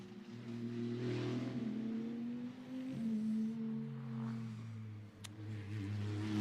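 A Maserati GT2 race car at Misano comes toward the listener on track, its engine droning in sustained tones that swell and shift pitch as it nears, heard faintly at a distance.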